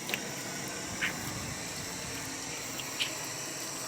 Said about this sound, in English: we're just going to spritz some water on this.